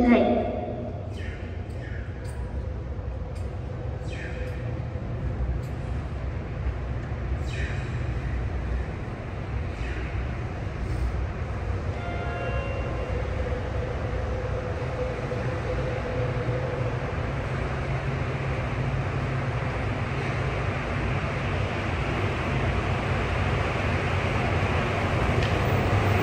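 A subway train arriving at platform 1 of Asabu station, bound for Makomanai, with a rising rumbling roar of the approaching train building steadily, preceded by chime-like tones and a platform announcement voice at the start.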